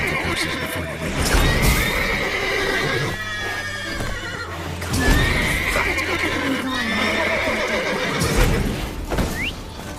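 Several horses neigh and whinny loudly and up close in The Witcher 3: Wild Hunt, with hooves thudding and clattering underneath.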